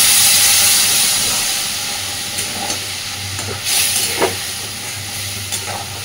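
Mustard masala sizzles steadily in a pan as a little water is added, with a broad constant hiss broken by scattered splutters and soft scraping stirs close by.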